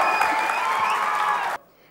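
Audience applause at a film audio launch, a loud dense wash of clapping that carries steadily for over a second and then cuts off abruptly.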